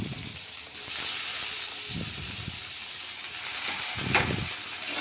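Chopped carrots sizzle and fry steadily in hot oil for fried rice, a continuous close hiss with a few soft stirring scrapes through the pan.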